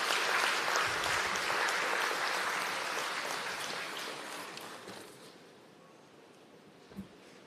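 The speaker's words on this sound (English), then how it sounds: "I'll ask you to please give them a round of applause" An audience at an annual general meeting gives a round of applause, steady clapping that gradually thins and fades out, leaving quiet room tone with one faint knock near the end.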